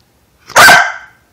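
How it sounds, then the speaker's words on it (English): Trixie the dog lets out a single loud, sharp bark close by, with a brief ringing tail and silence before and after. "No barking."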